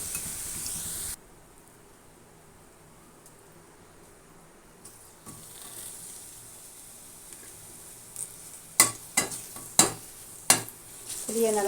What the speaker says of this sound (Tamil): அடுத்து புளி வதக்கிக்கிறேன்.